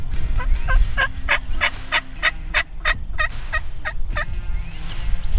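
A wild turkey gobbles loudly and nearby in repeated rapid bursts while strutting along a fence row in Mississippi, each gobble a quick string of pulsing notes over low outdoor rumble.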